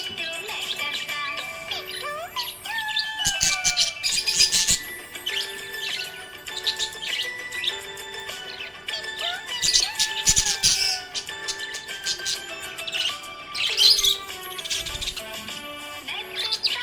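A happy budgie chirps and warbles in rapid bursts of high tweets and whistles, close and lively, with brief gaps between flurries over a quiet background.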